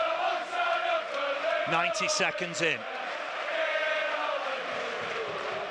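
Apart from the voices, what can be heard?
football stadium crowd noise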